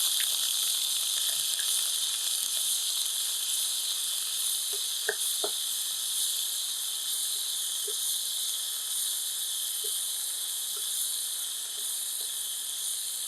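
Onion with cumin, garlic and ginger pastes fries in a pan, giving a steady, even sizzle that runs throughout with a few faint clicks and no voices.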